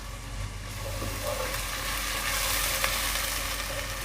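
Onions with garlic ginger paste and chopped green chillies frying in a pan for egg yakhni pulao, a steady loud sizzle running throughout with no talking.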